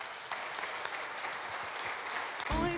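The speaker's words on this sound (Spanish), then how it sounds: "Denle un aplauso al Señor." Congregation applause at a church service, a sustained wash of clapping heard from a distance, with a voice coming in at the very end.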